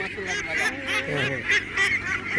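Loud, repeated honking quacks from a flock of ducks on a duck farm close by, overlapping calls in an irregular rhythm.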